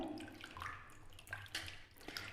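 Aloe vera gel being washed and kneaded by hand in water, wet sloshing and squelching with dripping splashes, close and moderately quiet.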